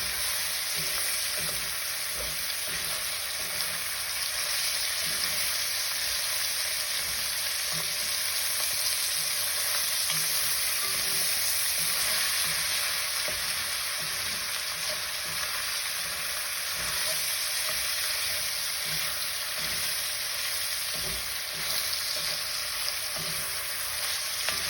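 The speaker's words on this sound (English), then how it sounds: "We've let the sausage kind of warm up in there." Sausage sizzles steadily in a pot as the base for a South Carolina pilau, a continuous close crackling fry with occasional faint stirring scrapes and no talking.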